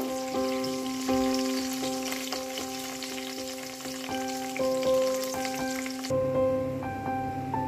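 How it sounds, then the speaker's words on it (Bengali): Cashews and almonds frying in a mix of oil and ghee for a home puja offering: a continuous bright sizzle and crackle with steady tonal hum throughout, close and unbroken, no talk. "আমি এই কাজু আর আমন্ডটাকে আগে ভালো করে একটু লাল লাল করে ভেজে নেব।"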